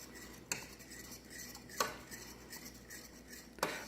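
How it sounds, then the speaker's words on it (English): Sweet sauce being stirred constantly in a pot on the stove, with a metal spoon scraping and clinking against the pot in three sharp knocks over a soft, steady rubbing of stirring, close and fairly quiet. "For 5 minutes, stirring constantly."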